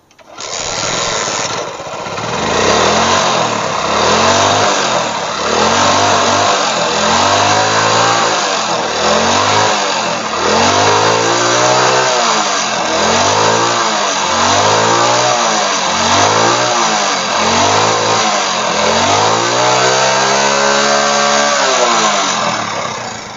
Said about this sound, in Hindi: अब बाइक को स्टार्ट करेंगे।